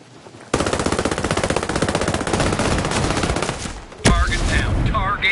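Rapid automatic gunfire from unsuppressed enemy weapons in the tactical shooter Ghost Recon Breakpoint, a loud sustained burst of closely spaced shots lasting several seconds, then a sharp single crack and a short voice.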